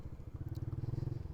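A TVS Raider motorcycle engine idles steadily after starting, with a low, even thumping pulse that grows slightly firmer through the short stretch, close by.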